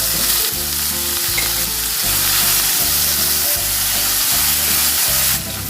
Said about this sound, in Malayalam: സവാളയും കൂടി ഇട്ടെടുക്കാം നന്നായിട്ടൊന്ന് വഴറ്റാം ഈ സമയം ഉപ്പ് ചേർത്ത് കൊടുക്കാം